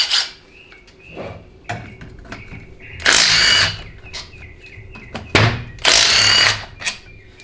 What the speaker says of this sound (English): now we'll go ahead and remove the extension housing itself